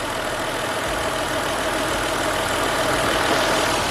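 A Toyota JZX100 with an HKS Hi-Power exhaust idles close by, a loud, steady, smooth low rumble with a faint irregular stumble running under it.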